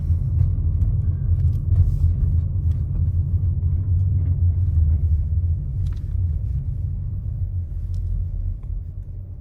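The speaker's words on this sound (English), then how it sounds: "we're gonna take a little leisurely drive over here and pull over" A car rolling slowly along a street on an Uber Eats delivery run, a steady low engine and road rumble from inside the cabin that eases slightly toward the end.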